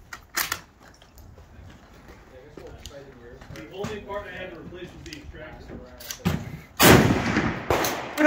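Gunshots from an M48A Yugoslavian Mauser rifle firing 8mm hand reloads outdoors: a sharp crack early, then after a stretch of talking two loud, close blasts near the end, each followed by a short tail.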